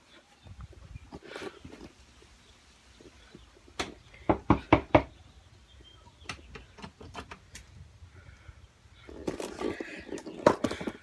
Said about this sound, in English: Why do I have to knock on the door all the time?